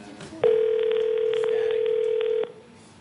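One steady electronic ring tone plays on a live phone call. It sounds for about two seconds at an even, fairly loud level, then cuts off, with faint room noise before and after.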